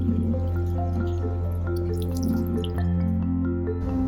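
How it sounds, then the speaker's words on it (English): Water drips and squishes from the filters of a Corvan K18 cordless vacuum and mop as they are washed, with close wet drips and sloshing over a steady low hum, and no talk. "You can also submerge the filters in water and shake to clean them."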